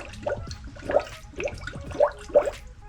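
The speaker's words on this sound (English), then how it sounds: "Fill the coolant up to the top." Coolant is poured into the radiator of a Mazda CX-5, making a series of rhythmic gurgling glugs about every half second, moderately close, with no talking.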